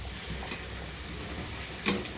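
Spices frying in hot oil in a pan for a Bengali taro curry, a steady close sizzle broken by two brief scraping stirs.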